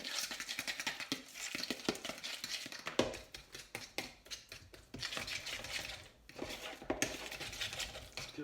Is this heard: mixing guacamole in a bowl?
yes